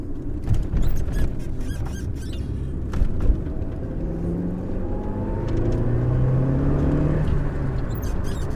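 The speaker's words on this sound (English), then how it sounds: "Just going quickly from second to third." A 1994 Lancia Integrale Evoluzione 2 engine revs and pulls as the manual gearbox shifts quickly from second to third, pitch rising then dropping, with a steady road rumble underneath.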